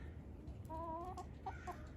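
Chickens from a backyard flock cluck softly in short, scattered calls, faint and somewhat distant over low background rumble, with no talking.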